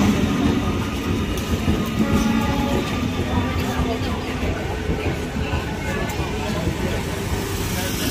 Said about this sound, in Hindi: लो फ्रेंड्स, लोकल ट्रेन आ गई।